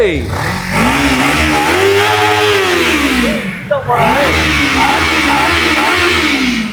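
A green Kawasaki Ninja motorcycle starts and revs loudly nearby, its engine pitch climbing, falling and climbing again in sustained blips, with brief voices under the roar.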